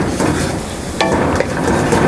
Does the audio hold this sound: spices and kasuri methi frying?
yes